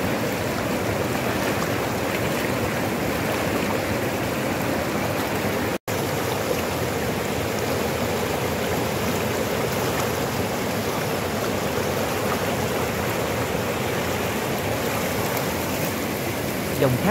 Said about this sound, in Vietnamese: thác nước tuôn chảy ầm ầm cùng với những hình khối đá lạ mắt xếp chồng lên nhau dựng đứng như vách núi